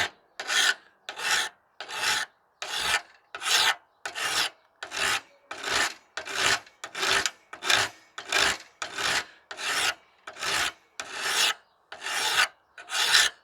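A garden tool blade is filed along its bevel in about nineteen even, rhythmic rasping strokes, each a gritty scrape followed by a short pause, close and clear with no talk.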